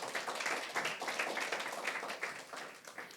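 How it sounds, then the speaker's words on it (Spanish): Congregation in a church service breaking into applause, a steady dense wash of many hands clapping at moderate loudness throughout. "Un fuerte aplauso para nuestro Señor"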